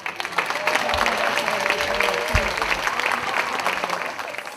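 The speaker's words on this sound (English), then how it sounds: "we're going to give them a really quick round of applause" An audience gives a quick round of applause for elected officials at a celebration event, a dense, sustained clatter of many hands with a few voices and cheers murmuring underneath.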